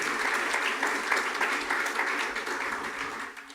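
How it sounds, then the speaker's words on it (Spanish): Church congregation applauding steadily in a sustained, dense wash of clapping that carries on without a break and eases slightly at the end. "Le damos un aplauso al Señor."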